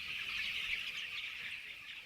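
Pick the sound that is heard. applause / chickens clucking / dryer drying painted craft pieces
chickens clucking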